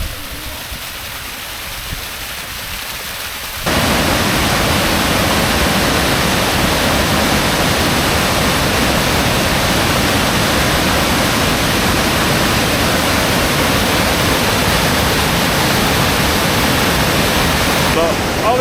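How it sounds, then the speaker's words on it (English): A waterfall on a hillside hike, swollen after a day of rain, roars as a loud, steady broadband rush that starts suddenly after a quieter stretch and continues unbroken to the end. "we'll get a good look at this, well, the major waterfall and the small waterfall as well"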